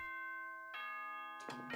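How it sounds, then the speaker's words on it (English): School chime from Danganronpa, a ding-dong bell with sustained ringing tones and a second struck note near the end, clear and without speech. "Bing bong ding dong."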